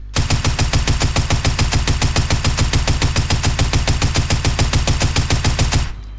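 Tactical assault rifle in Fortnite firing one long sustained burst of rapid, evenly spaced loud shots for about six seconds, then stopping abruptly.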